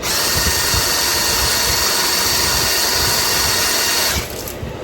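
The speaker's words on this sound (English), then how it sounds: "Looks like it's pumping water pretty good." A loud, steady mechanical whir mixed with rushing, splashing water from the water pump of a 1956 Gale 5 HP Buccaneer outboard motor running in a test barrel, continuous and close, shifting slightly near the end.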